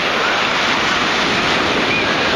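Ocean waves wash onto a beach at low tide, a loud, steady roar of surf mixed with wind buffeting the microphone, continuous with no breaks or voices.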